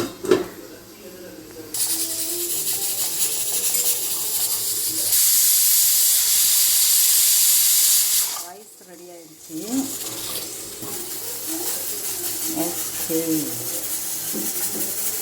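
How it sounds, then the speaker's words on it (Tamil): Fish curry made with ground tomato and sardines bubbling in a pot, giving a loud steady hiss and sizzle that swells and drops back, with a person talking over parts of it. "தக்காளி அரைச்சி ஊற்றிட்டு எண்ணெய் பிரிஞ்சு வர்ற அளவுக்கு கொதிக்கட்டும்"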